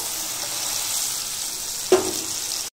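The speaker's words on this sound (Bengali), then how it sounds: "এবার আমি আমার পরিমাণ মতো জল দিয়ে দেবো" Mustard paste sizzles steadily in a pan for mustard hilsa, then water poured in near the end brings a sudden louder hiss and splash that stays strong before cutting off.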